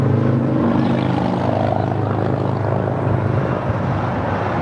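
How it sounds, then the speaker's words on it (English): An Allegiant Air Airbus A319 jet comes in to land, arriving from Bentonville, with a loud, continuous engine roar that holds steady throughout, no voices over it. "This is Allegiant Air 773 coming in from Bentonville on an A319."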